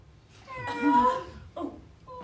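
A cat meows several times nearby, with a long drawn-out cry followed by a shorter one and the start of another, fairly faint against a quiet background.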